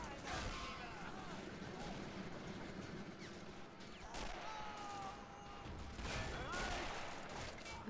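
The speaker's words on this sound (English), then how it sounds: "Is that still your mortar going off? Yeah, I still have one mortar left." A mortar fires among other weapons in a Men of War: Assault Squad 2 British ambush battle, with faint repeated booms and bursts of gunfire throughout while people talk over them.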